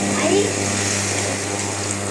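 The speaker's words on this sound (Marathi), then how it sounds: "यामध्ये थोडंसं गरम पाणी टाकू" Hot water is poured into masala frying in oil for a homemade paneer curry, making a steady, close hiss and sizzle that runs without a break.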